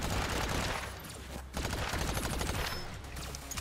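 Continuous rapid shooting in the game Agents of Mayhem, a steady barrage of shots at moderate level with a brief pause partway through, no voices over it.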